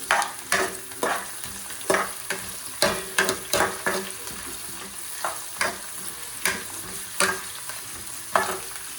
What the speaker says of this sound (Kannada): ಇವಾಗ ಬೆಳ್ಳುಳ್ಳಿ ಹಾಕ್ಕೊಳ್ತಾ ಇದ್ದೀನಿ.